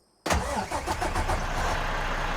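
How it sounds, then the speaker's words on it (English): A Volvo VNL truck with a D13 diesel engine starts up in American Truck Simulator, a sudden cranking catch after a moment of silence, then settling into a loud, steady rumbling idle. "And it's got that Volvo D13 engine in there, which is pretty darn slick if you ask me"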